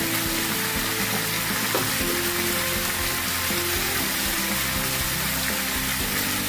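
Ground cumin sizzles in hot oil for a shrimp and Malabar spinach dish, a steady, close, loud frying hiss with no talking.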